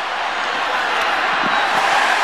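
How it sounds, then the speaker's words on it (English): A football stadium crowd roars steadily during a 2010 Falcons at Steelers game, a dense, loud, unbroken wash of cheering with no break over the short span. "Crowd in full throat"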